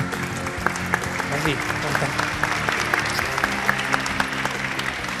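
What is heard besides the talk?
audience applause for speaker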